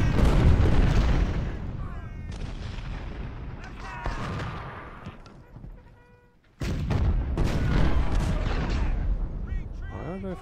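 Gunfire and artillery in Ultimate General: Civil War at the First Battle of Bull Run, with dense rolling musket volleys and booming cannon blasts, loud and continuous apart from a brief lull before another heavy burst.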